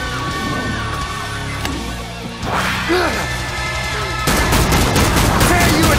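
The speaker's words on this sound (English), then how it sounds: "Precision shooting." Rapid gunfire in the survival shooter Killing Floor 2 on the Containment Station map, dense bursts and cracks over game music and effects, growing louder and more continuous toward the end.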